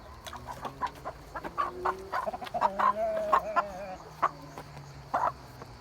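Chickens clucking in short, irregular bursts close by, with steady low farmyard hum underneath and no talking.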